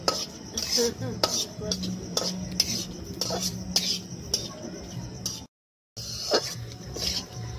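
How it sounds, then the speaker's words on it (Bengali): Cashews and raisins frying gently over low heat in a pan for a vermicelli dessert, with soft sizzling and repeated clinking, scraping stirs of a utensil against the metal, a brief silent gap near the end. "কাজু কিশমিশটা ভাজা হয়ে গেছে, এবার নামিয়ে নেব।"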